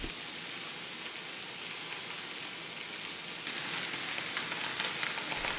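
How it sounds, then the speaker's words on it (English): Grated Romano cheese sizzling in a non-stick skillet over medium heat, a steady soft hiss and crackle like light rain, faint and continuous throughout with a slight rise near the end. "carefully spread out about a quarter cup at a time of cheese into the pan to form a thin layer"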